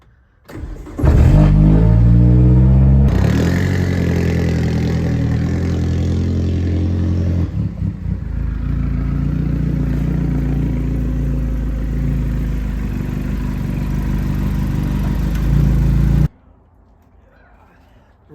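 A turbocharged Hyundai Sonata engine cranks over and catches near the start, then settles into a loud, steady idle for about fifteen seconds before cutting off abruptly.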